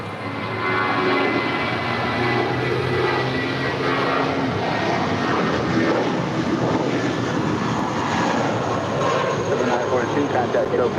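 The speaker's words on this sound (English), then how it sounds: "It's flight 942, and that's an A320." Airbus A320 airliner departing LAX, a continuous broad jet roar that holds steady throughout, loud and fairly close, with talk faintly mixed in.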